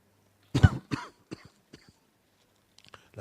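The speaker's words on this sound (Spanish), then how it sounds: "La tos la traje de La Pampa también." A sharp, close cough bursts out, followed by a few softer throat-clearing coughs and small breathy noises in an otherwise quiet room during a church sermon.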